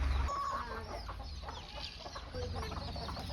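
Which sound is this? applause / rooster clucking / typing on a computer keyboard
rooster clucking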